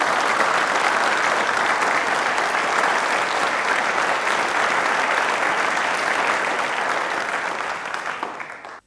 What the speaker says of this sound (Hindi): एक बार तालियां आप सभी के लिए जोरदार वाली होनी चाहिए।